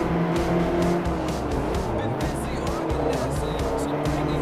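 A racing car engine in Forza Motorsport 3 accelerating with a steady, droning roar, joined by tire squeal and other passing cars, loud and continuous, while a voice talks over it.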